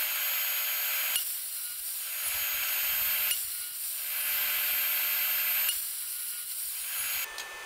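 A saw rips a 3/4-inch-thick wooden board into strips about 5 inches wide, in three long, loud cutting passes separated by short, quieter pauses.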